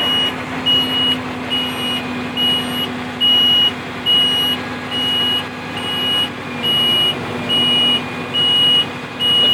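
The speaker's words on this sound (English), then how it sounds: "Put my my PTO on. That's my PTO right there. It's on. Now we lift the box up." A dumpster truck idles with a low, steady drone while its power take-off lifts the box, and a loud reversing beeper sounds in a regular rhythm of evenly spaced beeps.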